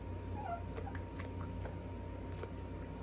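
A pet dog whimpers and cries indoors in a few faint, high, short whines over a quiet room background, with no talking.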